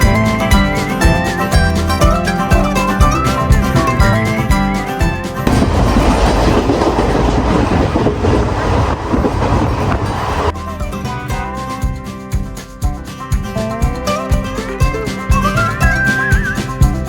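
The Sapthagiri Express runs on the Tirupati–Chennai line near the Tamil Nadu border with a loud, continuous rolling rumble and sustained whistle-like tones; the noise swells into a harsher roar midway, then settles back.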